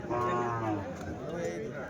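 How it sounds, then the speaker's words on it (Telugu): A cow lets out a long, low moo close by at a weekly cattle market in Chintamani, followed by a second softer lowing call, with some outdoor background noise. "నాటి ఆవు అయితే ఉందండి చూడొచ్చు"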